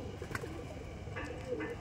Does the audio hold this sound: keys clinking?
no